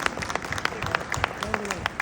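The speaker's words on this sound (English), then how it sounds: "a round of applause for the man who made it possible for you" Scattered applause from an audience at an office ceremony for qualifiers, made up of quick, fairly faint claps over a murmuring room, with speech in the background.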